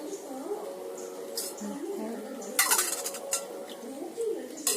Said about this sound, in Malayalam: ഇത് നമുക്ക് പച്ചവെള്ളത്തിൽ ഇട്ട് കഴുകിയെടുക്കാം